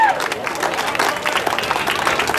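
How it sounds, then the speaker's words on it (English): Audience at a city hall grand opening and ribbon cutting breaking into a round of applause, lively crowded clapping with some voices mixed in, loud and sustained. "Get round of applause."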